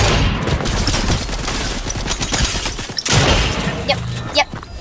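Rapid gunfire in the Fortnite battle royale game, including a pump shotgun in a close-range fight, with dense overlapping shots, loud and continuous, followed by a few sharper isolated blasts near the end.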